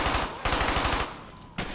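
Thompson submachine gun in the Brothers in Arms: Hell's Highway video game firing rapid automatic bursts, loud and close, with a short pause before another burst begins.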